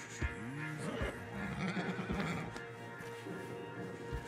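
In Red Dead Redemption 2, a horse gives a loud, close whinny over the clopping of hooves, with more hoof steps and a calmer snort following through the scene.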